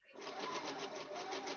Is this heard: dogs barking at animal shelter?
no